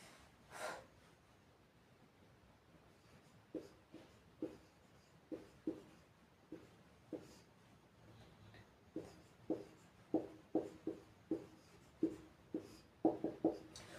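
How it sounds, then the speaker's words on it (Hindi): Pen or pencil writing on paper, quiet close scratchy strokes coming in short irregular bursts against a near-silent background. "तो हम लोग चलिए लिखते हैं।"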